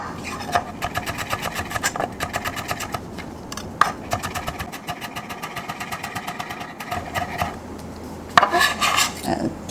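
Rapid knife chopping of ginger on a cutting board, dense rhythmic taps in fast runs with brief pauses, close and fairly loud, with no talk.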